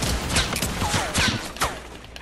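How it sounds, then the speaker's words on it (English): Rapid enemy gunfire strikes the player's wall in a video game, a close, dense flurry of impacts and shots in quick bursts. "How are they shooting my wall so quick?"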